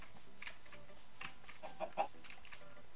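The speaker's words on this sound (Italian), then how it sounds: "Ciao pollo." A chicken in the FTB Continuum Minecraft modpack gives several short, faint clucks scattered over a few seconds against a quiet game background.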